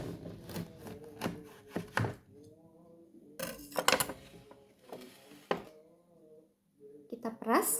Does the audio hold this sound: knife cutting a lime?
yes